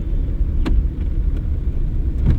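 A car's engine rumbles low and steady as the driver shifts into second gear during a driving-school lesson, with a few faint clicks from the controls.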